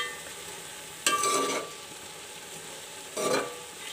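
Onions being stirred as they fry in a pot for vegetable pulao, with two separate bursts of scraping and sizzling, near and fairly loud, over a low steady background and no talk.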